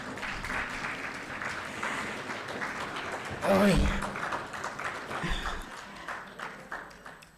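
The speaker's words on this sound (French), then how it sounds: "Applaudissez un peu." A crowd at a meeting of national directors applauds in a steady wash of clapping, with voices speaking and murmuring underneath throughout.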